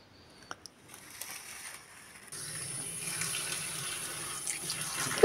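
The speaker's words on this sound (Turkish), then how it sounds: "Şimdi bol suda fasulyelerimizi yıkayacağız." Running tap water splashes into a sink as home-grown green beans are washed for pickling, starting with a few light knocks and drips and then becoming a steady gush of water.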